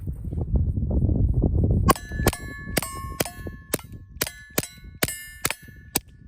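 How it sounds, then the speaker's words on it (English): Suppressed Ruger Mark IV .22 rimfire pistol firing standard ammunition through a Griffin Armament Checkmate HD suppressor: nine or so sharp, quiet cracks with metallic ring, irregularly spaced after a brief stretch of low rumble, no talk. "Is there anything more fun than a suppressed Ruger Mark IV 22?"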